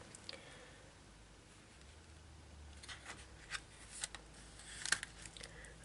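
Paper for a tri-fold journal trimmed by hand, with a few quiet crisp snips and light rustles arriving mostly toward the end over a hushed room background.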